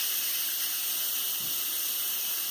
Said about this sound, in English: I'm going to show you opening the Instant Pot, letting all the steam out.